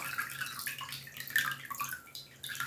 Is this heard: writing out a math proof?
no